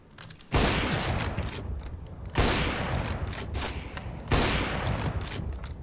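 Rapid automatic gunfire in the video game CS:GO, three long, loud bursts of sustained shooting, each starting abruptly and running on for well over a second, with no talking.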